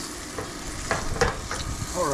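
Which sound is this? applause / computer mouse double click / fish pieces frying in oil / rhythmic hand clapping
fish pieces frying in oil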